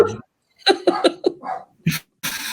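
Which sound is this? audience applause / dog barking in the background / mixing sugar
dog barking in the background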